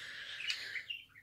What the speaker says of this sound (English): A kakariki bird named Frankie